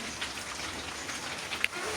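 Faint, steady rain patters on a surface outdoors, a soft continuous hiss with a few scattered drops, quiet and without speech.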